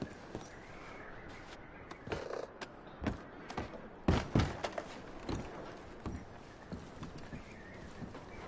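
A horse's hooves clip-clop in an irregular walking gait in Red Dead Redemption 2, with quiet, scattered thuds that grow a little firmer midway, and no talking.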